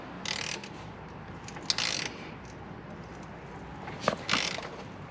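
A ratchet tightens a T-clamp on a radiator coolant hose of a Lexus IS300, three short, close bursts of rapid clicking separated by quiet pauses.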